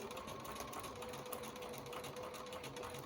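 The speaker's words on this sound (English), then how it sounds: "I'm sewing right on my drawn line. Little back stitch at the end." A sewing machine runs steadily while stitching the binding onto a small quilted mug rug, its motor and needle making a continuous close-up whir for a few seconds, with no talking over it.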